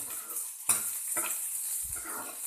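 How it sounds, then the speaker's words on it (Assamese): Chopped taro being stirred and fried in a pan: a steady high sizzle of hot oil runs throughout, broken by a few scraping stirs of a utensil against the pan. "এনেকৈ মই কচুখিনি অকণমান লৰাই লৈ ভাজি ল'ম।"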